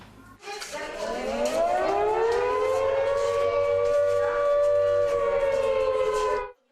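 An air raid siren in Ukraine wails loudly, rising in pitch and holding a long sustained tone for several seconds before cutting off abruptly.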